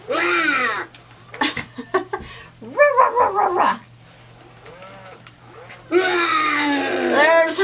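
FurReal Ivory the Roarin' Tiger toy growls in several loud, rough bursts, separated by a voice imitating a growl and talking nearby.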